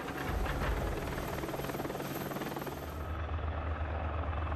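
A Tigre combat helicopter of a French combat helicopter regiment flies close by, its loud, steady rotor and turbine roar continuous throughout, with a slight shift in tone near the end.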